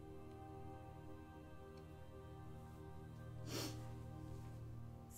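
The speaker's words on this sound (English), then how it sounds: "Excuse my sniffling." A single short, faint sniffle by a person painting digitally, heard close over a quiet electrical hum.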